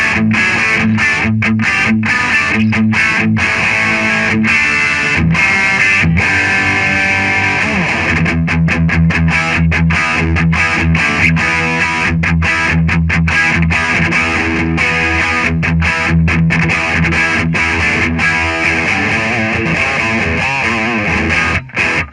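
Electric guitar played through a Marshall DSL40c valve combo on its gain channel with gain at 6: distorted chords and riffs with choppy muting and sustained crunchy passages, loud and alone.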